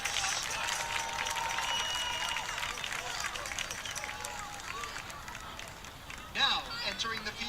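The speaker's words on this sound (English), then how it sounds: "Give one more round of applause for the Lockhart High School Lionettes." Crowd applauding at a high school football game for the Lockhart High School Lionettes, a steady wash of clapping and cheering that holds throughout, with a brief louder swell near the end.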